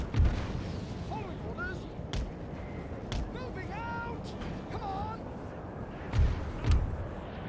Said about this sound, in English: that's a lot of shots coming in from their cannons.